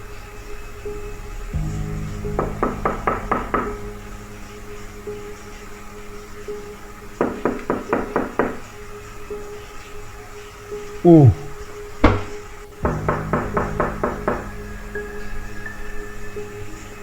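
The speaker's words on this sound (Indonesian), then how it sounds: "Ada yang ketuk-ketuk pintu." Knocking on a door, a mysterious night-time knocking in Sabak, sounding as three separate bursts of about five quick, sharp raps each, with quiet pauses and a faint background hum between them.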